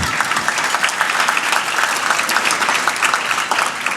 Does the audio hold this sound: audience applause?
yes